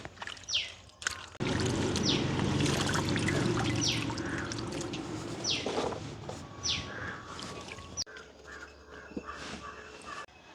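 Water trickles and splashes steadily while vegetables such as carrots and peppers are washed in an outdoor village kitchen, with crows cawing repeatedly nearby and the flow stopping near the end.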